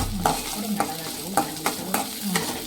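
Cumin seeds and black pepper sauté in a pan while a spoon stirs them, ahead of grinding a spice paste for brinjal kuzhambu. Rhythmic scraping strokes land about every half second over a faint, steady sizzle, close and with no talk.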